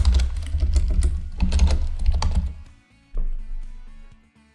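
Quick bursts of keystrokes on a computer keyboard as code is written, dense clattering runs with a short pause and then a few scattered taps, close and clear with no talk.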